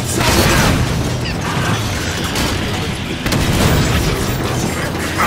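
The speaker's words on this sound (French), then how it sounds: "Je me fais tirer dessus." Sustained gunfire from soldiers aimed at the player in Halo 5, dense crackling bursts and mechanical clatter running continuously at close range with a brief dip midway.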